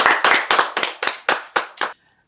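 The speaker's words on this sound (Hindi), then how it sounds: "तालियां हो जाए एक बार।" Audience members at a motivational meeting clap about eight times in a quick, even rhythm, each clap sharp and close, then fall silent.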